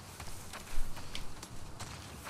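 Horse hooves clop at a walk in The Last of Us Part II, a faint, irregular series of soft thuds with scattered sharper clicks, heard alone without talking.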